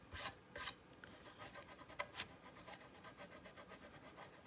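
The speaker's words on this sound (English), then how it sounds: "The more I rub, the clearer it is." Paper being rubbed to bring out a picture for a Mother's Day craft project: soft, close rasping strokes repeat in an uneven rhythm, with a few louder scrapes near the start.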